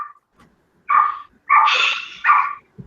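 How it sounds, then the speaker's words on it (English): A dog barks in several short, loud bursts, close by, with brief quiet gaps between the barks and no talk over them. "Dog."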